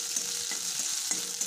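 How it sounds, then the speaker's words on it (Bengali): Chopped onions with green chillies sizzling in mustard oil in a pan, a steady close crackling fry with a few soft scrape taps of a spatula, no voices. "এখন পেঁয়াজটা ভালো মতন ভাজা ভাজা করে দেবো"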